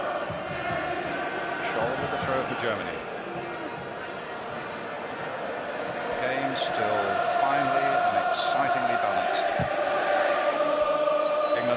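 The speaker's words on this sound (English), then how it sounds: "The crowd love it every time Stuart Pearce gets involved" Football stadium crowd at the Germany v England Euro 96 semi-final, a continuous roar that swells in the second half as it cheers a defender's involvement, with a commentator talking over it.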